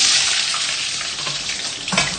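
Loud, continuous crackling and bubbling of french fries deep-frying in hot oil, a dense sizzle throughout with no voices.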